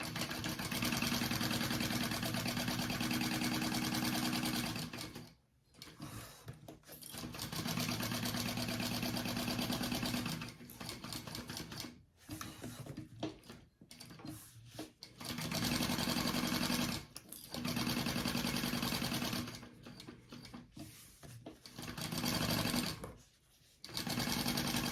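A sewing machine bastes the front and back of a tote bag together, its rapid mechanical stitching running in loud, steady bursts separated by short pauses as the fabric is repositioned.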